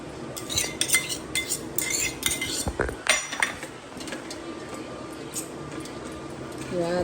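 Onions tipped into a pan of spices with coriander-cumin powder and turmeric, spoon clinks and scraping stirs close by, busiest early, then quieter mixing under a low steady hum with a voice talking.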